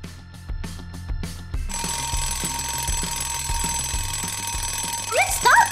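An alarm clock rings insistently at wake-up time in a bedroom, a steady bright bell that runs without a break, with thumps and rustling as someone reaches over to silence it.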